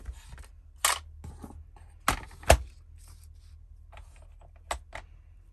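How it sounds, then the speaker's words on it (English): A paper cutter slices a Classic Happy Planner page, Amethyst theme, heard as a few sharp close snips and clicks spaced out over quiet pauses, with softer rustles of paper between them. "I'm actually going to get my cutter out one more time. We're going to cut this right down the middle"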